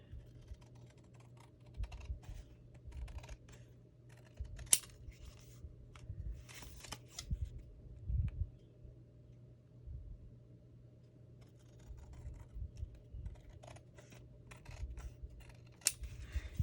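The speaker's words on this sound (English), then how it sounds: "I kind of want to trim this side again. Just of the white paper though." White paper trimmed for a handmade spring card, heard as soft scattered snips and clicks of a paper cutter or scissors close by in a quiet room, with short pauses between bursts.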